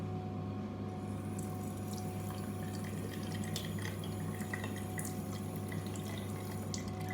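Water runs steadily from a tap into a cupped hand, a continuous close trickle with small splashes and drips over a low mechanical hum, no voices.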